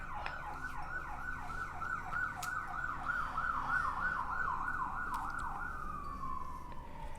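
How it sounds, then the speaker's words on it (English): An ambulance siren wails in a rapid rising-and-falling yelp, moderately distant and steady, then slides down into a lower drawn-out tone as it passes by. "I'm just gonna let this ambulance drive by."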